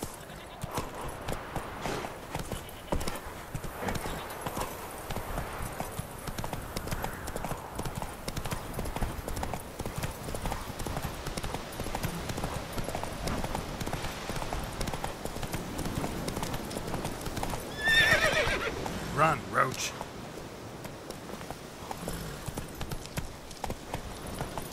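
Roach the horse in The Witcher 3: Wild Hunt, with steady galloping hoofbeats clip-clopping throughout, a brief neigh standing out near the end, and faint speech mixed in.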